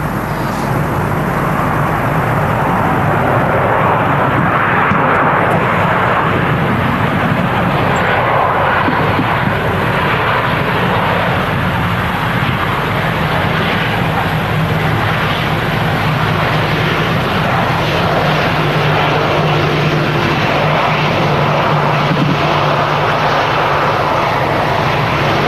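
A KLM airliner's jet engines roar loudly and continuously at Manchester Airport, giving a broad, sustained rumble with a faint tonal whine that holds steady for the whole stretch.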